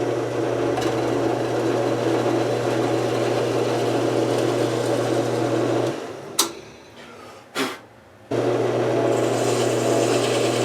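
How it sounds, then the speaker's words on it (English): A power tool drones steadily as a countersink bit cuts into wood for a Stratocaster guitar pivot post repair, then briefly cuts out with a few clicks before resuming. "So now we're cutting the countersink for that cuff"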